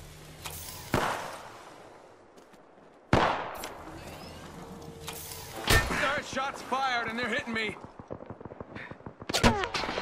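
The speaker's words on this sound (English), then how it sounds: "Shots on me" Gunfire in the Apex Legends battle game: several sharp, loud cracks arrive separately with gaps between them, followed by quick rattling bursts near the end, over faint background game sound.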